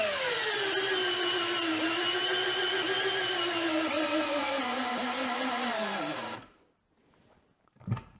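A DeWalt DCF610 screwdriver drives with a 7/16 inch socket, its steady motor whine sagging in pitch under load for about six seconds before cutting off, followed by quiet and a brief thump.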